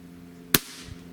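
A Smith & Wesson 78G or 79G CO2 pistol firing a single .177 caliber pellet, one sharp close crack that decays quickly, followed by a faint impact.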